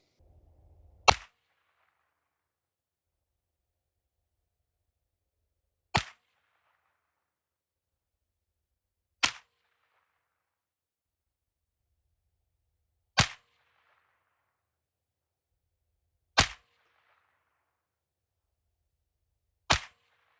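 Rifle shots through a Pindrop XL carbon fiber suppressor, six sharp, isolated reports spaced several seconds apart with silence between them, each a clean crack with a brief tail.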